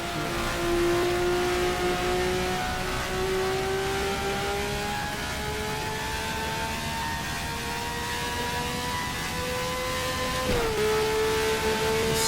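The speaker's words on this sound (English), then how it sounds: "V12 naturally aspirated engine is absolutely something stunning." A naturally aspirated V12 race car engine in the GTR2 racing game, at the Mexico City circuit, screams loudly and continuously at high revs, its pitch climbing steadily with a brief gear-shift dip near the end.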